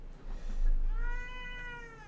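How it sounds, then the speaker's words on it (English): A cat meows angrily in a single drawn-out, wavering yowl that rises into a strained, harmonic-rich cry, close and loud with no talk over it. "The cat gets it too. The cat's really mad."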